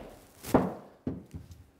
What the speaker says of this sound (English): Now I need to swing through and hit the shot.